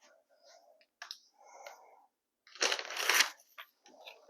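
A knife cuts through goat milk soap loaves in a wooden mold, giving soft scraping and crunching passes with short clicks between them and one louder, longer cut near the end.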